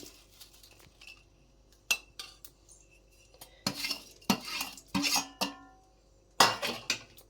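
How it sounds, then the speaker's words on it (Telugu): A spoon stirs chicken tikka masala with fried onion in a pan, producing scattered metallic clinks and scrapes that come in irregular bursts and grow busier toward the end, close and fairly clear with no talking. "మొత్తం ఇలాగ మసాలా అంతా కలిసేటట్టు మనం దీన్ని బాగా కలుపుకోవాలన్నమాట"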